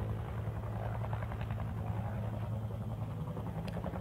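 A firefighting helicopter flies nearby, its steady rotor and engine drone filling the scene continuously at a fairly even level, with no talking.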